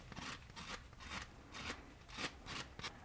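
Quiet, rhythmic sanding of a resin and circuit-board pendant: short, gritty back-and-forth rasping strokes, about eight in quick succession, close by with no talking.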